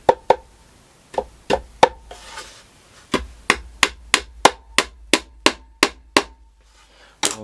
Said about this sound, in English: you don't get a particularly satisfactory smack with a hammer